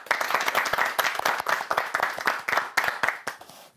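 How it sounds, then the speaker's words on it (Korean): An audience claps to welcome three performers to a small Lenten concert, dense overlapping hand claps in quick irregular bursts, close and loud, trailing off at the end without talk. "그러면 세 분을 박수로 모셔보죠"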